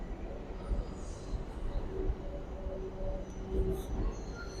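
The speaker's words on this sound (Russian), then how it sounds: "Типичный поезд пригородного сообщения." A commuter train in London rumbles past at a distance, a low steady roar of wheels on rails with faint metallic squeals rising now and then.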